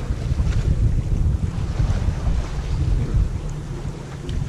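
A sailboat crossing the Bay of Biscay from Port Médoc to Gijón under sail in a crosswind, with steady wind rush buffeting the microphone and water washing along the hull, continuous and close with no voices.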